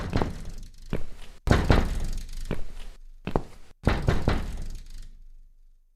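Firm knocks on a door in the video game The Cat Lady, arriving in several sharp clustered bursts with brief silent gaps between them, close and fairly loud, then fading to quiet at the end.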